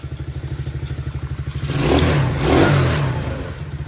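A Chinese ATV engine idles with a rapid chugging pulse, then revs up twice in quick surges before settling back to idle.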